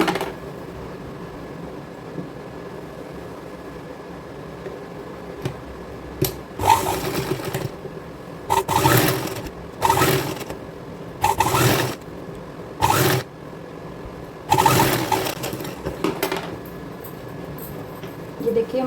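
Sewing machine stitching the neckline of a patchwork kurti, running in short bursts of about a second each, repeated several times at close range, with a voice talking quietly in between.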